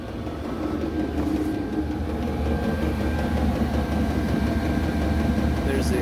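Diesel heater running inside a rooftop tent in 3-degree cold, its exhaust routed through the floor, giving a steady low droning hum with a constant combustion rumble throughout while a voice talks over it.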